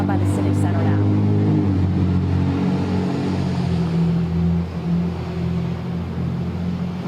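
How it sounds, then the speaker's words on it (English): Cars drive past on wet city roads near a civic center during a protest, a steady low rumble of tires and engines with hissing spray that swells and eases slightly but never stops. "Katie, mostly you can just hear cars driving by on the wet roads."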